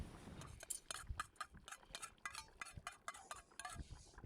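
Garlic being stirred into bograch, a Transcarpathian stew with potatoes cooked over an open fire: quiet, irregular clinks and scrapes of a utensil against the pot, close by and without speech.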